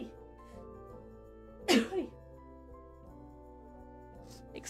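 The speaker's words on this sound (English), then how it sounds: "I'm gonna sneeze." A single sharp human sneeze bursts out close and loud, followed by a smaller second burst, over quiet background music in a game setting.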